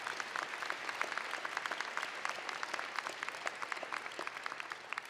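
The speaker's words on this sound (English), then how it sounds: "So just a quick round of applause for everybody in this room who's helped them through these tough" Steady applause from a commencement audience at a College of Osteopathic Medicine graduation, dense continuous clapping with sharp individual claps throughout, moderately distant and sustained without pause.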